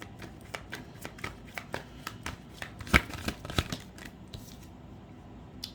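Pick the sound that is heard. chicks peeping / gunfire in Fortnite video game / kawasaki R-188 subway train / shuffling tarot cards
shuffling tarot cards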